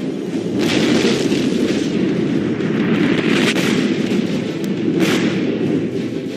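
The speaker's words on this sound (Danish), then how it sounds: "De lysende bomber fløj i deres stødvise fart vislende gennem luften." Bombs exploding over Copenhagen at night during a bombardment, a dense, continuous roar of blasts and rumbling booms with sharper bursts standing out, loud and unbroken throughout.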